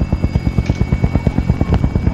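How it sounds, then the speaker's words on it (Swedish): A video-game helicopter's rotor beats in a fast, even thumping rhythm, close and loud, holding steady throughout with no voices. "Och det är en helikopter."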